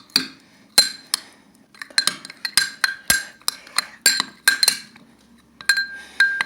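A spoon clinks repeatedly against a glass while stirring a lemon juice mixture, a fast irregular run of bright, close ringing taps with short pauses, alone without talk.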